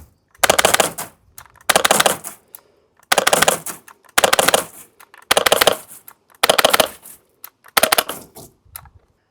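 A Spyra 3 water gun fires on burst mode, seven sharp rattling bursts spaced evenly with short quiet gaps between them, loud and close with no talk.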